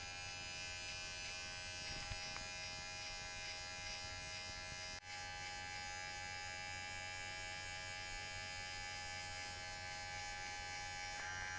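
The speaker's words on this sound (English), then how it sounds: "go back with your trimmer to flick out the rest of the hard line" An electric hair trimmer buzzes without a break through a self-administered buzz cut, a steady, close, high-pitched motor whine with one brief dip partway through.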